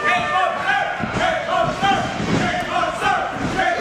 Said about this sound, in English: Crowd chanting for Cake Monster.